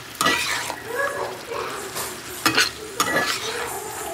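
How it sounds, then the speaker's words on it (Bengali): Fried lentil dumplings being stirred into a bottle gourd curry, a spoon scraping and clinking against the pan in several bursts over a light sizzle, close and moderately loud, no talking. "তো বড়িটা এখন মিশিয়ে দিই"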